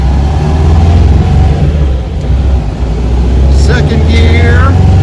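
A car with a 002 transmission accelerates hard in first gear, the engine note loud, steady and close throughout, with a brief higher whine near the end.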